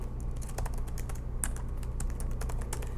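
Rapid keystrokes on a computer keyboard as a web address is entered, a steady run of close, crisp clicks over a low hum, with no talking.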